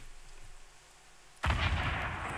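A rocket launcher firing in Fortnite Battle Royale: after a quiet stretch, one sudden loud whooshing blast erupts and trails off into a sustained roar.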